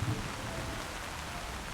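Steady rain falls as a sound effect in a drama scene on a stormy city street near a station, a continuous soft hiss with faint low rumble throughout.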